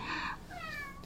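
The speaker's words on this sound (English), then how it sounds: "oh, there's my cat." A house cat meows twice, a short rising cry followed by a longer wavering one, close by and fairly quiet.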